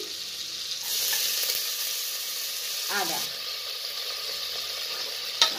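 Ginger, bay leaf, cinnamon, cardamom, cloves and peppercorns sizzle steadily in a pan while being stirred, a bright constant hiss with a few scraping clinks near the end.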